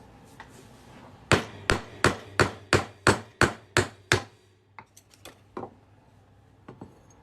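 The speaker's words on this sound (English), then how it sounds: "And now we're just going to drive this through here with a little hammer." A small hammer drives a tool through a coin during ring making, striking ten sharp metallic taps in an even rhythm, close and loud, followed by a few scattered lighter knocks.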